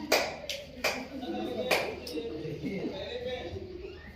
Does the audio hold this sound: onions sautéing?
no